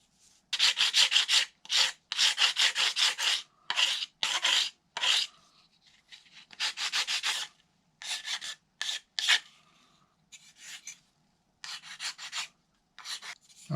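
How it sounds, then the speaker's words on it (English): Sandpaper rasps back and forth across the wooden airfoil of a control line model airplane in quick bursts of strokes, close and crisp, separated by short pauses. "each time you sand an airfoil, you got to start over with another line"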